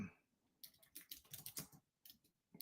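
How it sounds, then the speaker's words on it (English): Fingers type on a computer keyboard, producing quick, irregular runs of light clicks close by with short pauses between bursts, quiet and with no talking. "I'm typing it out so I can put it in the chat."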